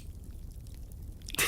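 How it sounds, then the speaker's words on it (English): A can of cold sparkling water cracks open after a quiet moment of faint low rumble, ending in a sudden sharp, fizzy hiss. "cracking open a cold sparkling water"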